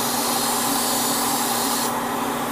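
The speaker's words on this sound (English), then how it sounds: "It's weird on my airbrush now that the nozzle is spraying in an opposite" An airbrush hisses steadily as it sprays paint onto a 1/144 HG Gundam Cathedral Schwartzritter model, its nozzle bent at an odd angle, giving a continuous loud airy spray with no pauses or talking.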